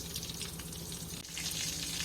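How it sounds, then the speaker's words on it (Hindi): Peri peri bites frying in oil over medium heat, a steady close sizzle and crackle that runs without a break and swells slightly louder near the end. "इसको हमने बिल्कुल मीडियम से हीट पे फ्राई करना है"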